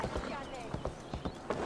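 Horse hooves pounding at a gallop in Assassin's Creed Valhalla, a rapid, regular run of heavy thuds close by, with someone talking over the rhythmic clatter.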